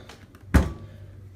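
The door of a COSTWAY compact laundry dryer is opened with a single close, dull thunk and a brief rattle, then a quiet room.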